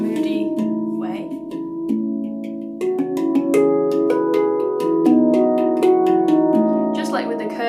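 A Meridian handpan is played in a slow, moody melody, its metallic notes ringing out one after another with long overlapping sustain, close and clear with no talking.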